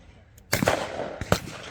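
A shotgun fires at a clay target on a shooting ground, one sharp close blast followed by a second report a moment later, with a brief voice just before.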